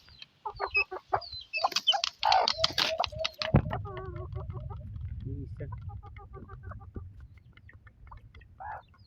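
A mother hen clucks close by in a rapid, repeated series of loud clucks, then settles into quieter, sparser clucking over a low steady background.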